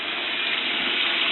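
Boiled broccoli stems and their cooking water poured from a pot into a strainer, a steady close rushing gush that holds evenly for the whole moment with no voices.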